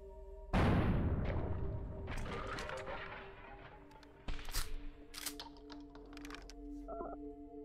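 A shotgun blast in the video game Buckshot Roulette: one loud, close boom with a long fading tail, then a second sharper bang a few seconds later among small clicks and clunks.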